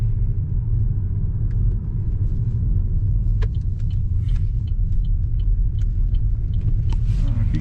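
A 2013 Chevrolet Malibu with a C0040 wheel speed sensor fault cruises on a highway at night, heard from inside as a steady, loud low rumble of road and engine noise with faint clicks and ticks above it.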